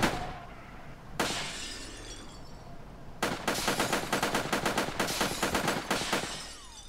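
Gunfire in the video game Sub Rosa: a lone sharp shot, a pause, then a long rapid automatic burst of evenly spaced cracks with a shattering, glassy edge, loud and close, no talking.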